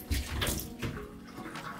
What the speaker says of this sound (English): can you rinse your hands in that?